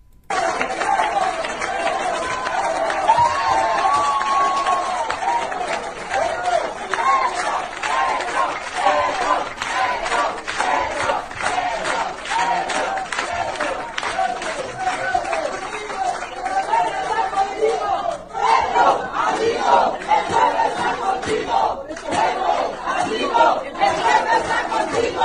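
Crowd at the Sorbonne university in Paris applauding and cheering, a busy, continuous mix of clapping, shouts and chatter rising and falling, heard close and loud throughout.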